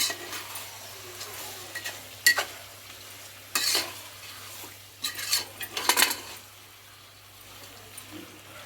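A spoon stirs a chicken and tomato pulao mixture in a frying pan, bursts of metal scraping and clatter over a low sizzle, several loud close knocks in the middle, then quieter frying.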